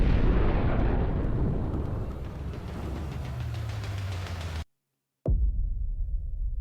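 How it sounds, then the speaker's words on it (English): A meteor strikes and blows up the world in the game Craftopia, a heavy rumbling explosion that slowly fades, cuts to silence, then bursts back with a sharp loud boom. "Oops, we blew up the Earth."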